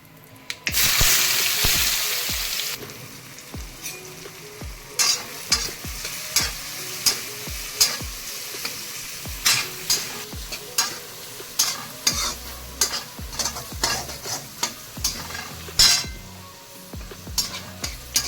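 Spiced potato bhaji sautéing in a pan, with a burst of sizzling as ingredients hit the hot oil followed by steady, repeated scraping and stirring strokes of a spoon against the pan, close and alone.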